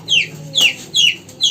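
A chilled hen kept warm beside a fire clucks four times in a steady rhythm, each call loud, close and falling in pitch, with no speech.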